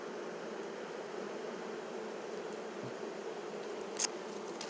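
Honey bees buzz around an open Flow Hive brood box in a steady, close drone, with a brief faint tap near the end.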